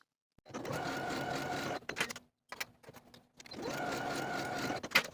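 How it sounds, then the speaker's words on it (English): Sewing machine stitching dress shoulder seams with a half-inch allowance, a close steady mechanical whir in two runs with a brief pause and fabric handling between them. "Now I'll sew my shoulders with a 1/2-inch seam allowance and press the seams open."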